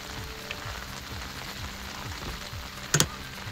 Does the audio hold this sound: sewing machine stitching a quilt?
no